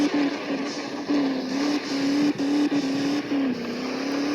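Toyota Land Cruiser engine in the Indian Vehicle Simulator game, a steady synthetic engine hum holding a near-constant pitch with slight dips and surges as it runs, loud and continuous, no talking.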